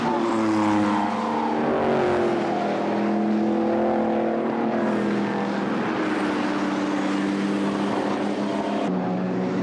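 Racing cars roaring along a circuit, engine notes rising and falling continuously as the pack battles for third place in a British race, loud and sustained throughout.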